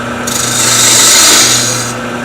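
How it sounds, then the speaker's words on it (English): A shallow fluted gouge cuts a cove into wood spinning on a lathe, giving one continuous rasping, shaving scrape that swells and then fades over about two seconds, loud and close above a steady motor hum. "that's my shallow fluted gouge cut. And we're going to make that cut in stages."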